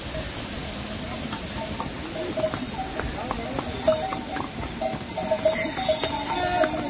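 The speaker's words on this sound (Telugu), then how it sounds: "గుర్రాలు వస్తున్నాయి." Horses on a mountain path near Kedarnath, their hooves clip-clopping in an irregular, fairly faint patter alongside small jingling bells, over outdoor ambience and people talking.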